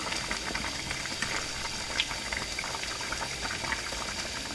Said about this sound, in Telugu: వెజిటేబుల్ రైస్ ఇలా బాయిల్ అవుతుంది